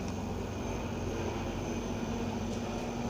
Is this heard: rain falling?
no